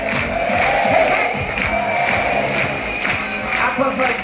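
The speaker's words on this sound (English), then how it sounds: "One final cheer for the crew of the Marella Voyager." A crowd aboard the Marella Voyager cruise ship cheers and shouts for the crew, a steady roar of many voices with scattered whoops and some clapping, fairly loud and continuous throughout.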